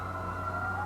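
A siren wails steadily in the distance, faint and continuous with a slight downward sweep.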